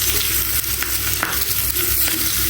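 Pieces of pangas fish frying crisply in a pan, a loud, constant close sizzle with faint stirring scrapes, no voices.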